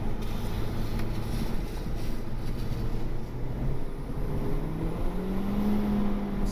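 A turbocharged Honda Civic with an R18 engine pulls in second gear, engine drone rising steadily in pitch beneath heavy wind rush, heard from inside the car.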